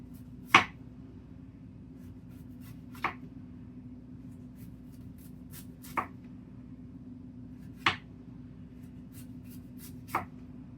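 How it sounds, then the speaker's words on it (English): Knife slicing fennel bulb very thin on a cutting board for a grilled chicken salad: five sharp, separate cuts spaced a few seconds apart, fairly close, over a low steady background hum. "We're going to go ahead and cut our fennel, and it says to slice it very thin."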